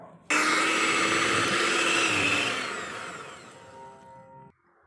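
An electric hand mixer whirs loudly through apem batter as coconut milk goes in, a steady high motor drone that starts abruptly, holds, then eases down and cuts off near the end.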